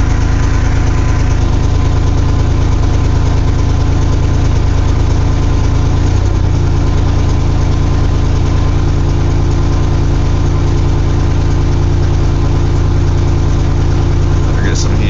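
Carbureted 1982 GMC S-15 pickup engine running at fast idle after a cold start in 35-degree weather, a loud, steady close-up drone with an even low hum and slight knock throughout.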